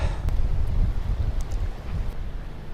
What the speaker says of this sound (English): So there's really high wind today.